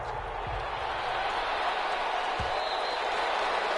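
A stadium crowd in the Madden 21 video game, an NFL matchup between the Los Angeles Chargers and Las Vegas Raiders, gives off a steady, dense roar of cheering that holds at an even level throughout.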